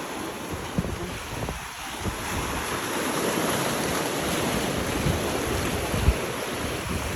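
Pacific Ocean surf and strong wind on the Northern Samar coast make a constant, broad roaring wash. Wind buffets the microphone and there are faint thumps, with no voices.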